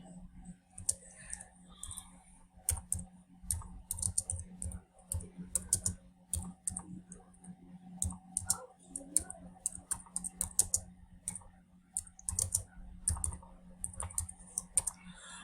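Rapid clicking of keys on a computer keyboard, irregular bursts of typing with short pauses, close and fairly quiet, no voices.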